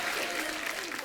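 A studio audience at a comedy talk show claps to welcome guests, a dense, steady burst of close applause lasting about a second.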